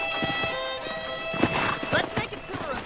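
Horse hooves clop close by in the Red Dead Redemption video game, with a whinny-like snort amid a steady musical drone and a voice speaking over it.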